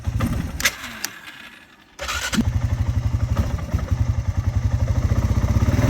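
A Honda Rubicon 500 ATV engine with a shifting fault, idling roughly with a loping, uneven chug after a brief dip and restart, close and steady as if about to stall.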